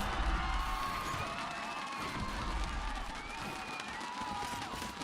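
Crowd cheering at a VCT Game Changers esports match, a sustained roar of whoops and shouts from a large arena audience with scattered clapping, loud and continuous throughout.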